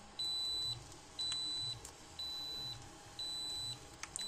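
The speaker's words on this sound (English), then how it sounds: "This sound is made by the goggle." Eachine EV300O FPV goggles emit four steady high-pitched electronic beeps, each about half a second long and evenly spaced, sounding clear and close over a faint background hum.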